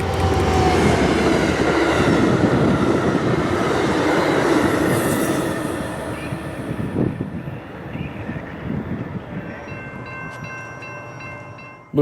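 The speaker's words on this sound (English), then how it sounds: "our next train is Hotshot Intermodal I-003, carrying domestic stacks and UPS mail west from the New York City area" Hotshot intermodal freight train I-003, carrying domestic double-stack containers and UPS mail, passing at Palatine Bridge in upstate New York: loud, close rumble with squealing wheels and clattering cars that gradually fades as it moves away.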